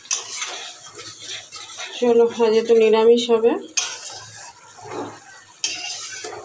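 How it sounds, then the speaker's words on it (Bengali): Spices sautéing in a pan on a home stove, scraping stirs and a hiss, with someone speaking over it and a brief metallic clatter of utensils. "এদিকে দেখো মশলা কষছে আর গাটিগুলো ভাজা হয়ে গেছে"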